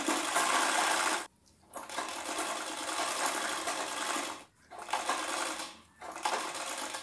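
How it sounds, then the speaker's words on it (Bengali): An electric sewing machine stitches along the edge of a bra-cut blouse in fast, loud, continuous whirring runs, broken by three short pauses. "আর ধার সাইডটাও আমি সেলাই করে নেব একবার, যেহেতু সুতো খুলে যাবে তো তার জন্য আমি সেলাই করে নিচ্ছি।"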